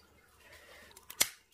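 Scissors snip through a phalaenopsis orchid flower stalk, a quiet rustle of handling followed by a few small clicks and one sharp, crisp cut close to the listener.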